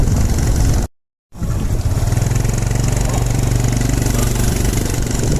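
A motorcycle is ridden through city streets on a rainy day. The engine gives a close, steady drone with a buzzing rumble that drops out briefly near the start and then carries on unbroken.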